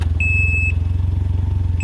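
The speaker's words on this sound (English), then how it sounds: "The bike also makes that beeping sound when you put the bike in reverse." Can-Am Ryker 900 three-wheeled motorcycle in reverse: a clear electronic warning beep sounds twice, a long tone then another starting at the end, over the steady low rumble of the idling engine.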